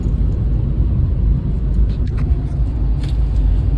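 Inside a four-wheeler on the road, a steady, loud low rumble of engine and tyres fills the cabin without letting up.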